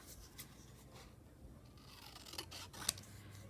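Scissors snip through paper Christmas ephemera pieces for junk journal crafting, cutting them in half: quiet, close, dry blade cuts with a couple of crisp closing snaps near the end.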